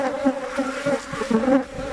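Honey bees buzz steadily at a hive kept for black seed honey, a dense close drone with wavering pitch and small swells; no talking.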